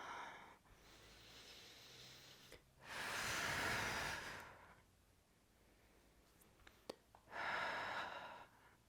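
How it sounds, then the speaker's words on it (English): Deep yoga breathing, two long audible breaths with a steady airy rush, close and fairly soft, separated by quiet pauses and a faint click. "Taking full and complete breaths in and full and complete exhales."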